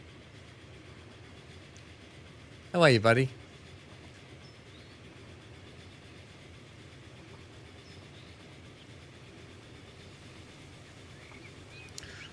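A steam engine train in the Transport Fever 2 game rolls by with a steady low rumble and faint clatter for the whole stretch, while someone speaks briefly near the start.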